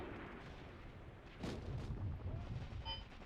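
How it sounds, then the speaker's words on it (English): Artillery fire in a WW2 video game, Mius Front, with a muffled boom midway over rumbling low battle noise, a dull, moderately distant blast amid continuous background din. "maybe these guys are getting tagged by artillery"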